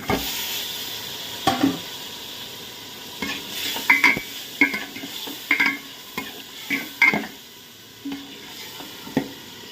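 Chicken sizzles in a hot pan while a utensil stirs it, with a steady frying hiss punctuated by repeated scraping and clinking strokes against the pan.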